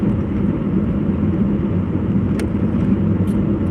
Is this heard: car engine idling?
yes